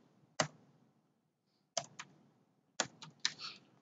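Keys clicking on a computer keyboard while an admin enters text into a settings field: sparse bursts of sharp clicks, one isolated stroke followed by pairs and a short cluster, quiet gaps between.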